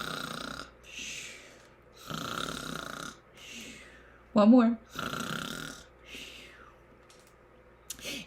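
A person's voice imitates a snoring bear with a run of drawn-out, rasping snores in a slow rhythm. They alternate with short bursts of speech at close range.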